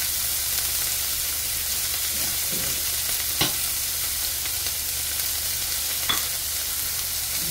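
Garlic frying in a pot, giving a steady, even sizzle close by, with a couple of brief sharp clicks from utensils partway through, and no talking.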